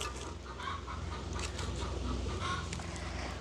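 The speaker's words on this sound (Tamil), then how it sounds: "மேலே கோழி ஒன்று கத்தி கேட்குறது" A hen clucks faintly in the distance, barely rising above a steady background hiss.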